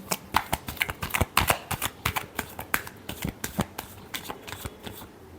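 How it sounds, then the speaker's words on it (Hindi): Tarot cards being shuffled by hand for a final time, a rapid run of crisp riffling and slapping bursts repeating steadily throughout, close and clear with no talking. "last shuffle"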